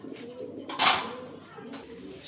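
Pigeons for sale coo in a short burst, with a brief louder flutter-like rush in the middle against a low background.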